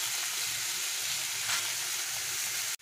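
Sliced onions dropped into a pan of frying chicken hiss in a steady, loud sizzle that continues before cutting off abruptly.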